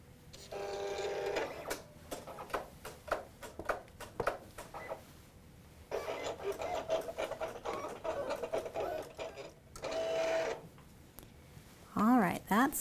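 An electronic craft cutting machine drags its blade through paper for red poppy cutouts, giving bursts of buzzing, whirring motor movement with short pauses and lifts between them, under a voice talking quietly.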